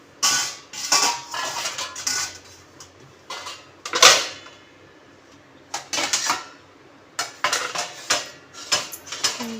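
Pots, plates and steel utensils clatter and clink in irregular bursts as they are set down and stacked, with short pauses between.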